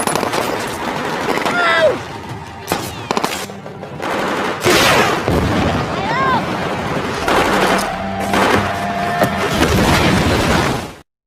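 Battle-scene gunfire from the film 12 Strong, with enemies shooting from behind a wall: dense machine-gun bursts and scattered shots, loud and continuous, mixed with shouting voices and crashes.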